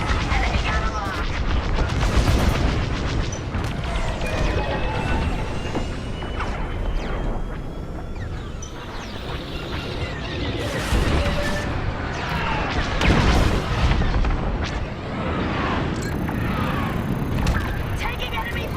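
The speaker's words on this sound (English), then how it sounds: "Taking enemy fire." Enemy starfighter fire in Star Wars Squadrons: dense, continuous game combat with repeated blaster bursts, crashes and booms over a constant engine roar, loud and busy throughout.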